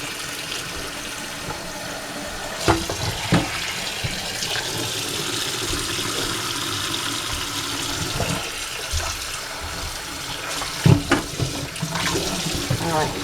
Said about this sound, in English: Turn this on, put some hot water,